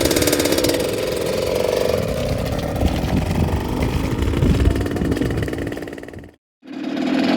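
An 82 CR supermoto motorcycle engine starts up and settles into a loud, close, rough two-stroke idle with uneven putters, cuts out briefly, then fires back to idling.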